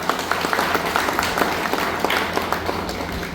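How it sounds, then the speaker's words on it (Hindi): Applause from the audience at a property awareness program, a short stretch of moderately loud, uneven clapping from a gathered crowd lasting a few seconds, with no speech over it. "जोरदार ताली बजाना चाहता हूँ"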